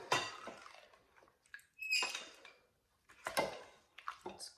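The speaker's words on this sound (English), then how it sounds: "I'll mill it through this, and it gives a nice texture that we like for the applesauce" Cooked apples being pushed through a hand-cranked food mill for homemade applesauce, giving intermittent metallic scraping, squeaks and clinks in short bursts, fairly close and quiet, with no talking.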